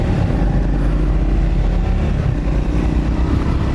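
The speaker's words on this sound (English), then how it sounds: "Lovely downshifts." A motorcycle engine heard loud and close from on the bike, a steady throbbing drone without clear distinct gear changes across the few seconds.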